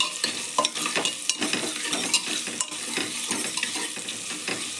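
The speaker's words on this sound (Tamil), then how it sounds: "லைட்டாக உப்பு போட்டுக்கிடுவோம். இந்த செவக்க வதங்கணும்ப்பா." Onions sautéing with a little salt until browned, a continuous close sizzle broken by frequent sharp spatula scrapes and clinks against the pan, with no one talking.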